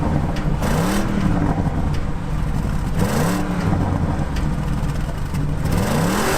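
The exhaust of a 2020 Audi RS Q8 performance SUV rumbles in repeated rising revs, three or four swells in a steady cycle, loud and close over continuous road noise.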